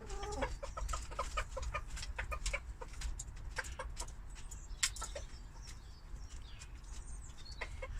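Backyard chickens clucking on an allotment, a steady stream of short, close clucks and calls over a low outdoor rumble, with one sharper squawk midway and no talking.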